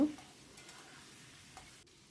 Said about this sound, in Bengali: আর এদিকে আলুটাও আমাদের ভাজা হচ্ছে